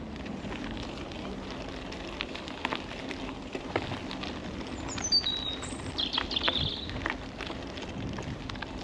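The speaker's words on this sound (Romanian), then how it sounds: "Aici e fain să aud păsările." Birds chirp and call outdoors along a cycling trail, with scattered faint tweets standing out over steady background noise, wind and movement sounds.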